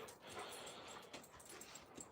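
Alaskan Malamutes outdoors letting out soft, close whimpers and small whines, several brief uneven cries over a quiet background with no speech.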